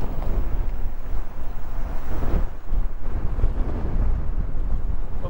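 Strong wind buffets the microphone at a tent campground in Cheyenne Mountain State Park, a loud, continuous roaring rush with gusty surges and no voices.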